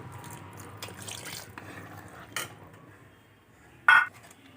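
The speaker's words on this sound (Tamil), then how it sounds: "இப்போ நம்ம தேங்காய் விழுதை சேர்த்துட்டு தண்ணி கொஞ்சம் சேர்த்துருக்குறோம்." Kitchen sounds as ground coconut paste and water go into a chicken gravy: soft clinks of utensils and a pot, faint drips and pours, then one sharp metallic clatter near the end, otherwise quiet.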